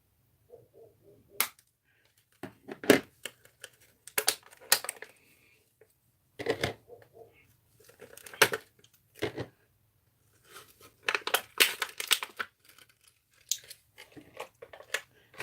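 Unboxing a Wonder Valtryek, with sharp crinkles, tears and snips of plastic packaging in irregular close bursts separated by brief pauses, with no talking.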